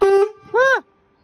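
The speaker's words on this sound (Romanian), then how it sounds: "Avem claxonul." A DAF XF truck horn sounds two loud, close blasts inside the cab, a steady tone followed by a shorter honk that rises and falls, then quiet.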